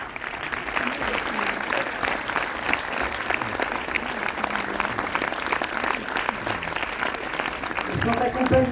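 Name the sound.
cinema audience applauding film producers at premiere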